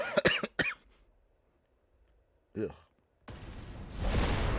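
A few harsh, close coughs in quick succession, a pause, then another cough, followed by rustling and a breathy noise.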